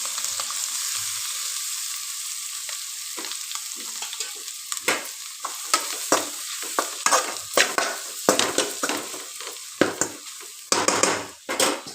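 Cooked rice is tossed into a hot pan and stir-fried for egg fried rice: a steady sizzle and frying hiss at first, then a run of loud, irregular scraping and clanking strokes of a spatula against the pan, with no talking.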